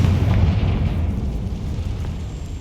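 A Confringo explosion spell in the video game Hogwarts Legacy, a deep rumbling blast that decays over a couple of seconds, loud and low-heavy.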